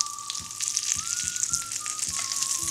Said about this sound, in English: frying a little bacon